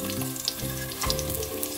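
Pieces of food fry in a pan until browned, giving a close, steady sizzle with small crackling pops and faint tonal hum underneath throughout.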